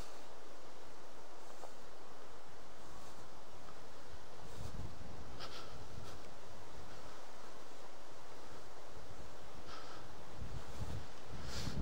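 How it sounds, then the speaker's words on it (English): Strong wind buffets a microphone in a Norfolk park near Cromer, a continuous low rumbling roar with gusty surges and rustling throughout, no voices. "Too windy today, though."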